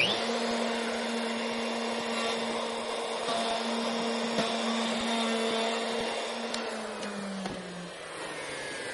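A handheld router fitted with a 3/8 inch spiral bit cuts through 3/4 inch oak, giving a steady, loud, close whine with a constant hum and little change over its length.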